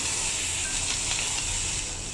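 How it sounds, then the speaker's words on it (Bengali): Chopped chillies and onions hit hot oil in a heated wok and sizzle loudly and evenly, a dense, close frying hiss that holds steady the whole time with no voices. "এই পাশে আমার কড়াইটা গরম হয়ে গেছে। আমি এখানে মরিচ আর পেঁয়াজ কেটে রেখেছি, সেগুলো দিয়ে দিচ্ছি।"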